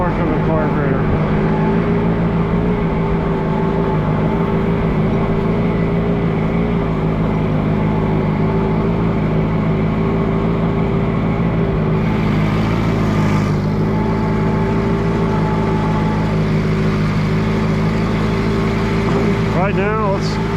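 An Allis Chalmers G tractor engine runs steadily outdoors in snow, a continuous close low rumble with a slight change in pitch late on, and a voice speaking over it.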